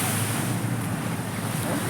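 Sea waves wash against a rocky shore at Kappil, a steady, loud broadband rush of surf with wind noise buffeting the microphone throughout, and no voices.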